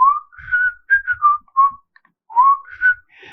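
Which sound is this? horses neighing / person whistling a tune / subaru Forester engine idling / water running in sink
person whistling a tune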